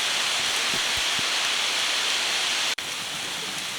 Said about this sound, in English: I can tell you it's a warm rain